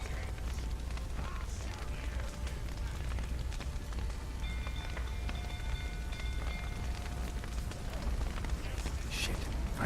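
Rain falls in The Witcher 3: Wild Hunt during a burning-stable scene, a steady, even hiss of downpour filling the whole stretch with faint tonal game sounds and occasional voices beneath.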